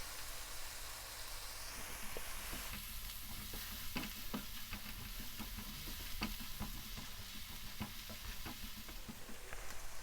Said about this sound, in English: we add a little bit of like a pinch of salt with the onion so it can fry a little bit faster